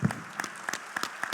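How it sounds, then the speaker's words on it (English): Brief scattered clapping from a convention audience at the STAI sugar convention, honoring the panelists; a few sharp separate claps at a moderate level with no voices. "Please, I shall request everybody to give a big round of applause for all our panelists."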